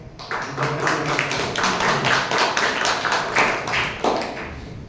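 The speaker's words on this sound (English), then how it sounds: "give him a round of applause" Several people clap together at a Toastmasters meeting for a few seconds, a lively burst of applause with distinct claps that fades near the end.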